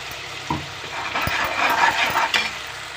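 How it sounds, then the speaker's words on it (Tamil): Ground masala paste sautéing in a pan for mutton gravy, a steady soft sizzle with occasional spoon scrapes and clinks against the vessel, fairly quiet and close, no talk. "பச்சை வாசனை போகிற அளவுக்கு நம்ம முதல்ல நல்லா வதக்கிக்கலாம்"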